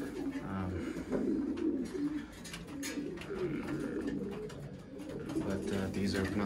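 Racing pigeons in nesting cages coo softly and repeatedly, a low throaty murmuring that continues throughout, with faint rustling and background noise.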